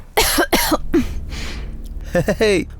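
A woman coughs in a few harsh bursts in the middle, with voiced vocal sounds before and after, fairly close and loud.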